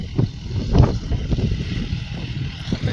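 Wind gusting across an open farm field under dark rain-threatening skies, a steady rumbling buffet on the microphone with stronger low gusts.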